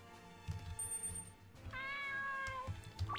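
A cat in a game meows twice in quick succession, a clear drawn-out call in the middle of the moment, over a faint background of soft clicks and ambient game sound.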